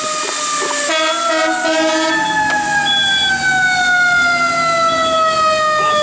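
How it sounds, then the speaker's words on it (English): A fire engine's wailing siren sounds loud and continuous, its pitch sweeping slowly downward as the truck approaches, with a steady engine rumble underneath and no talking. "Now the fire engine is going to be coming this way"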